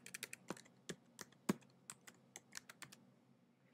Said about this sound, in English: So you can type or paste in your URL